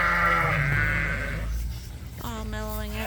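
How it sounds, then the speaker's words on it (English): Ewes and lambs bleat close by on a sheep farm, with a long, loud wavering bleat followed by shorter higher-pitched calls after a brief pause. "we got a nice little cluster of ewes and lambs here today"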